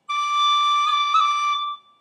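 A high D roll on a tin whistle: one sustained, bright, clear note with quick ornamental cuts flickering through it, played alone and close for under two seconds.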